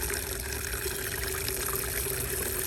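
Liquid fertilizer runs from a hose into a container for an orchid garden, giving a steady, even rush of flowing liquid with a constant whine, unbroken and moderately close.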